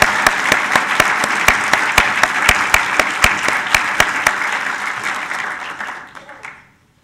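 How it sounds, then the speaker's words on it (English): Loud, close applause at a graduation ceremony as graduates clap for their families, dense clapping with a few sharp near claps, tapering off and ending in silence after about six seconds. "Please give a round of applause for your families."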